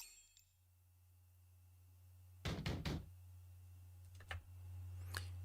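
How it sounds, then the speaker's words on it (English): Loud banging on a door in the video game NIKKE, a quick burst of heavy knocks followed a moment later by a second, briefer set of thuds, under a low steady hum. "a loud banging on the door can be heard"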